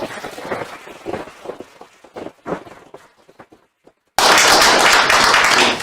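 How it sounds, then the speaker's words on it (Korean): Lecture audience breaking into applause: scattered light taps at first, then a sudden loud, dense burst of clapping that fills the last couple of seconds. "감사의 큰 박수 부탁드립니다"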